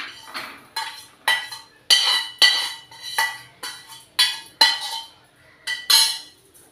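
Fried coriander scraped from a pan into a small bowl: a rhythmic series of about a dozen close, bright metallic clinks and scrapes, evenly spaced with short pauses between them.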